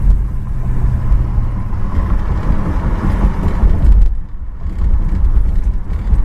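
A 1970 Ford Torino GT rolls over a bumpy road, heard from inside as a steady engine drone with road rumble and small thumps, no voices.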